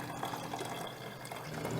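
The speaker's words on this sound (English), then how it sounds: "Next, time to strain the tea." Brewed tea, Assam black or green, is strained, with liquid pouring and trickling softly and steadily throughout, fairly quiet and close.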